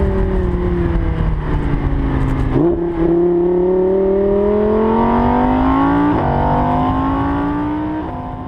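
A 2016 Audi R8 V10 Plus accelerates hard, its engine note climbing steadily through each gear with two or three clear shifts, loud and close throughout and easing slightly at the end.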